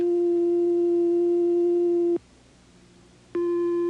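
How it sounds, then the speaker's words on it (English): A pure, steady sine-wave tone from an electronic oscillator hums for about two seconds, cuts off abruptly into near-silence, then switches back on at the same pitch. "This is a sine wave."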